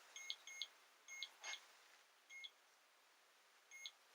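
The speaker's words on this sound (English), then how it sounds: "Just play the temperature alarm on that." A temperature alarm on a ghost-hunting device in a paranormal investigation sounds faint, thin electronic beeps, mostly in short pairs with gaps, over a quiet hiss.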